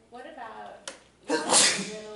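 A single loud, sharp sneeze bursts out right after a person speaks briefly, close and abrupt in an indoor room.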